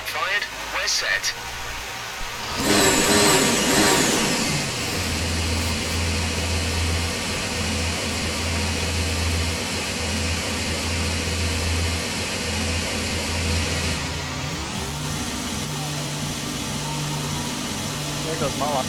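A racing car engine in the Silverstone racing video game starts up and settles into a steady, loud idle drone that carries on alone for most of the stretch.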